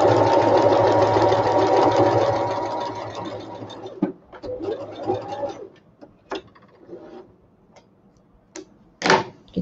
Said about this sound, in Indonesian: So kita tengah jahit bahagian tu.